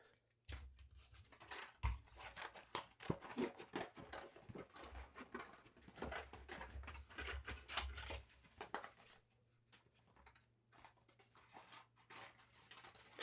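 Scissors snip and crunch through a cardboard cereal box, cutting out a dragon wing for a shadow puppet, in a long run of close, irregular cuts with a steady low hum beneath and a brief pause near the end.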